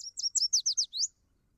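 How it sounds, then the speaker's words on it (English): Yellow warbler song played back from a bird identification app: a quick run of about seven bright, high sweet notes, clear and close, ending abruptly into silence. "I think that's a yellow warbler."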